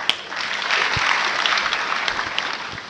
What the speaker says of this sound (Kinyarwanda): Mwaze mwikumira amashyi, musa neza.